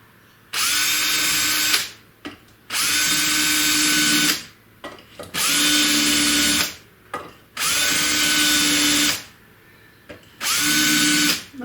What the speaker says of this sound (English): I'm just marking it with a 5mm drill.